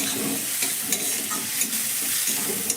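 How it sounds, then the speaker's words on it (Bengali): Vegetables with salt stirred and frying in a pan over a medium-low gas flame, a close steady sizzle with soft scraping stir strokes, no talking. "সঙ্গে নাড়াচাড়া করে ভেজে নিচ্ছি।"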